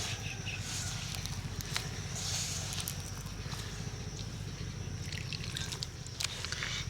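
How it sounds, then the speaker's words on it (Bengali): Water is added little by little to flour for jalebi batter, giving soft close dripping and trickling sounds with light sloshing from mixing, steady throughout. "এইভাবে অল্প অল্প করে জল দিতে হবে আর ময়দাটাকে ভালো করে মাখতে হবে"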